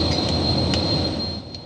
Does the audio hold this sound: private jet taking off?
yes